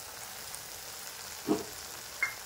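Spice paste for begun bahar dropping into hot oil, giving two short sizzling bursts over a low steady background crackle of frying, close and moderately quiet, no talking.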